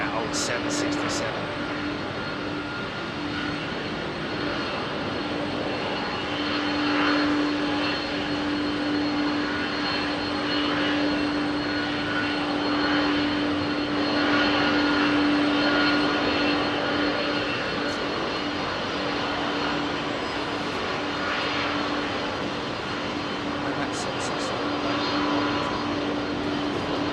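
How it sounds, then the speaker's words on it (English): An old Boeing 767's jet engines roar steadily and loudly, without pause, on Heathrow's runway 27R, a continuous broad rumble with a persistent tonal whine, while voices are heard over it. "Sound of that old 767."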